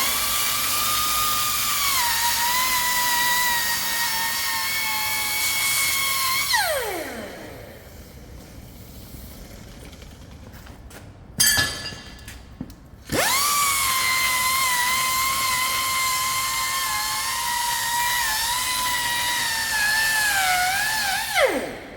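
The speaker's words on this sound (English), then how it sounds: "I'm just going to use a wire wheel to remove any surface rust." A wire wheel whines steadily while scrubbing surface rust off CAT 637 hydraulic cylinder parts. It spins up, runs loud and close, winds down, and after a short pause with a few clanks it spins up and grinds again.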